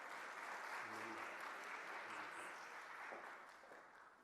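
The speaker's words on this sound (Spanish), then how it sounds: "Démosle un fuerte aplauso a la maestra María Paula" Audience applause at a morning lecture on prevention, greeting someone speaker; steady clapping from a crowd that fades slightly toward the end, with faint voices murmuring beneath.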